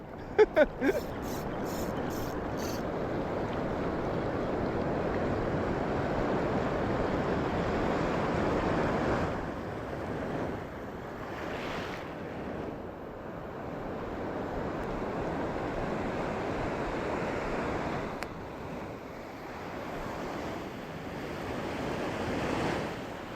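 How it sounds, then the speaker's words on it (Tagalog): Ocean surf rolls continuously for a long stretch during a fishing trip, a broad wash of breaking waves with wind noise, opening with a few quick clicks. "Alon to."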